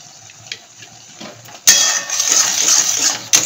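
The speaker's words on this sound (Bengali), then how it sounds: "একটুখানি কেওড়া জল দিয়ে দিলাম।" Kewra water is poured into a pan of parwal sweet, a sudden steady liquid pour and sizzle that starts partway through after a few faint clinks and ends with a sharp tap.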